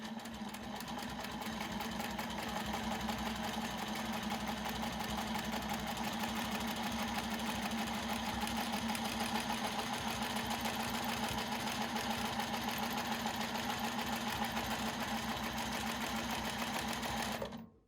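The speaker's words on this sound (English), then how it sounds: "I'm going to start sewing." A sewing machine stitching a quilt guided by a Westalee ruler, a steady fast mechanical whirring hum running continuously, close and even, stopping abruptly at the end.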